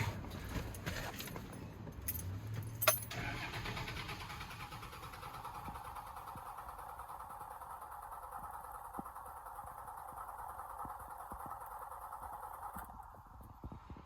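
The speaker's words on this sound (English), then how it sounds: "it might need a little bit of cranking to help it" A truck engine cranks steadily after repairs, a sustained whirring starter drone running for many seconds without catching, preceded by some brief clatter near the beginning.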